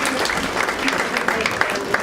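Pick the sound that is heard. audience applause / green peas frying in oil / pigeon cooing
audience applause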